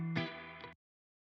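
An electric guitar plays a single sustained, slightly distorted chord through a spring reverb effect, ringing with rich harmonics for under a second before cutting off abruptly into silence.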